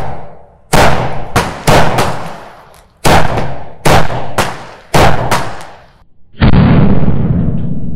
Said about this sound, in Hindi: ओहो, तो भाई देखा आपने छह शॉट ना बड़े ही सही फूटे हैं।